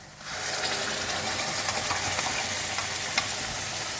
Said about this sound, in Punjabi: ਹੁਣ ਆਪਾਂ ਇਹਦੇ ਵਿੱਚ ਪਾ ਦਾਂਗੇ ਟਮਾਟਰ ਜਿਹੜਾ ਆਪਾਂ ਟਮਾਟਰਾਂ ਦਾ ਨਾ ਪੇਸਟ ਬਣਾਇਆ ਉਹ ਪਾ ਦਿਆਂਗੇ